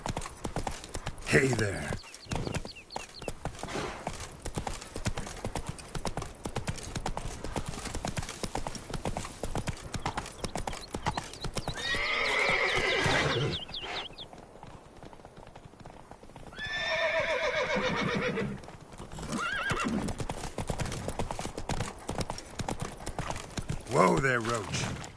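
The horse Roach in the game The Witcher 3, rapid galloping hoofbeats running almost the whole time, broken by two loud drawn-out neighs, with brief talking at the start.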